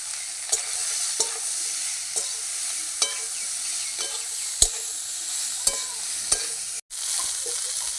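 Potatoes and figs (dumur) frying in a pan with garlic paste, a steady close sizzle broken by regular stirring scrapes and taps of a spoon against the pan, with no voices.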